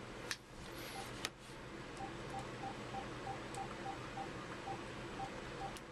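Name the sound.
telephone dialing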